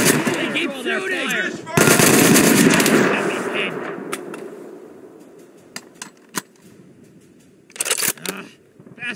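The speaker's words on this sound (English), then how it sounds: "They keep shooting." Rapid machine-gun bursts and gunshots from the video game Mud and Blood rattle loudly at first, then fade into scattered isolated shots before a closing burst, with voices in between.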